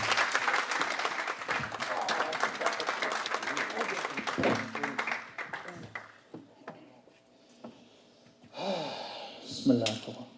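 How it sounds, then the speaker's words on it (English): Audience applause fills a summit hall for a welcomed guest, a dense wash of clapping for about five seconds before thinning out; scattered voices, cheers and a few loud bursts follow near the end. "Please give me a round of applause."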